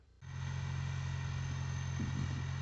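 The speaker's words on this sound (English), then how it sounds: "go warm up the tractor and give it a pull" A tractor engine warms up at idle, kicking in after a short pause and then holding a steady, close, low throbbing hum with no voices over it.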